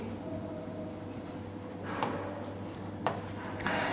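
Chalk or marker writing on a board, faint close scratching strokes over a low steady hum, with a couple of sharp taps.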